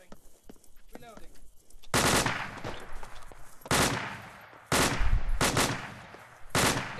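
Automatic gunfire during a patrol firefight: loud, sharp bursts come in several separate volleys with short gaps between them, and a voice is heard faintly underneath.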